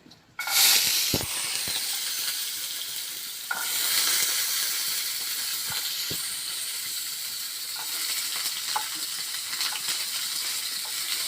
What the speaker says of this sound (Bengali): একে একে আমি এগুলো ভেজে নিব।